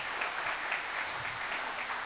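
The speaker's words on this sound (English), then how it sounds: "Why don't we give a round of applause to Pastor Brian for being with us." A congregation applauds Pastor Brian at a young adult camp meeting on a Sunday morning: steady, even clapping throughout, moderately faint and heard from some distance.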